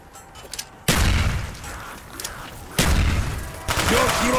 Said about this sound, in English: Explosions is the explosion part.